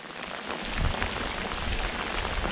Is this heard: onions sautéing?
no